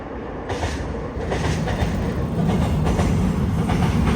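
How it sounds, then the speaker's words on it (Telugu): A Seoul metro train running underground is heard from street level at night as a steady, loud rolling rumble with faint rail clatter, and no voices over it. "మెట్రో ట్రైన్ వస్తుంది చూడండి లోపల నుండి సౌండ్ వస్తుంది"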